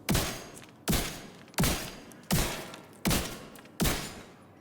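Six evenly spaced heavy gunshots from a weapon in The Division 2, each a loud sharp blast with a short decaying tail, firing steadily about every three quarters of a second with no talk.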